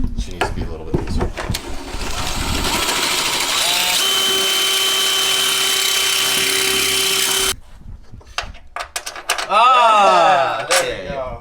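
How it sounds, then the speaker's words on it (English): A drill bores out a hole for a headlight on an NA Mazda Miata, several short bursts giving way to a long steady whine, then cutting off, with people talking and clattering nearby. "I can just drill out a little more."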